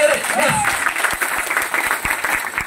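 Audience at an RCM business seminar claps steadily, brisk and moderately loud throughout, with a voice speaking over the start of the applause.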